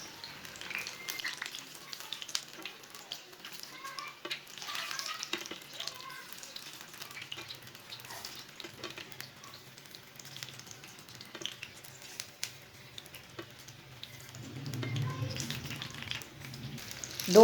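Kebabs frying in oil in a pan, a soft steady sizzle with faint crackles running throughout, swelling louder near the end with a low rumble.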